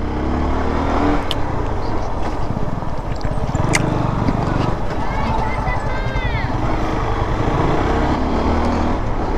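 A car drives along a tree-lined road on the way from Dhaka to Kishoreganj, a steady broadband road and engine rumble filling the whole stretch, with a few sharp clicks and a brief chirping sound near the end and talk over it.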